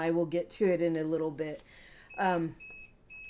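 A robot vacuum cleaner gives out short, high electronic beeps, a few spaced tones that come right after a man's speech.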